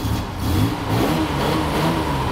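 A cold car engine runs after starting, revving gently with a loud, rough, steady drone close up.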